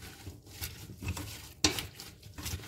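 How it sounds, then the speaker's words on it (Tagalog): Oil and ingredients being mixed together in a pan with a spoon or spatula, giving soft scraping and patter with one sharp knock against the pan midway. "we can mix it all together. So, kailangan natin haluin."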